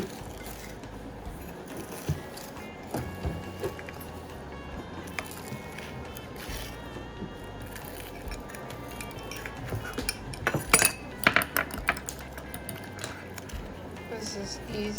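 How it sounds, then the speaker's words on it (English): A knife cuts through a homemade cheese quesadilla with scraping strokes and clinks of cutlery against a plate, growing busier toward the end, under faint background talk. "And then we cut our quesadilla."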